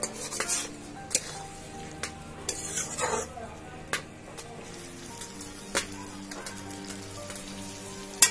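Potatoes fry with spices in a village-style pan, a low crackling sizzle broken by scattered clinks and scrapes of a spoon against metal, close and moderately quiet with no talking.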